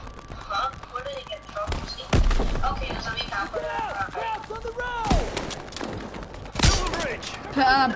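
Sharp gunshots from Call of Duty: WWII ring out in a few loud single cracks spaced seconds apart, amid game voices and background chatter.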